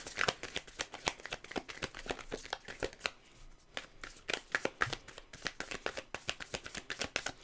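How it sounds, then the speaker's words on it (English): A deck of tarot cards being shuffled close up in rapid riffling bursts, a steady flutter of snaps with a brief pause midway, no voices. "Can't stand the way this deck shuffles."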